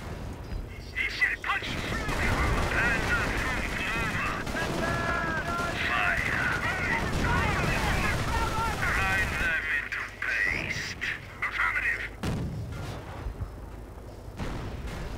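Cannon blasts and heavy gunfire from a Sherman tank and a Panzer IV in the Company of Heroes strategy game, with sharp booms punching through a dense battle din and a voice speaking over parts of it.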